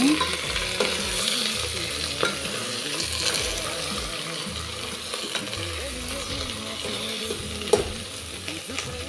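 Mutton is stirred and fried in a pressure cooker for a Nepali-style gravy. A loud, continuous sizzle runs under repeated scraping and clattering from the stirring utensil, with one sharper knock near the end.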